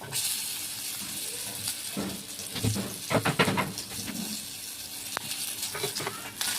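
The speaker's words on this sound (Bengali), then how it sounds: "রসুনটা ভালো করে ভাজা হবে।" Garlic tempered in hot oil for a leafy greens stir-fry sizzles steadily, with louder bursts of crackle and a few clinks of a spoon against the pan.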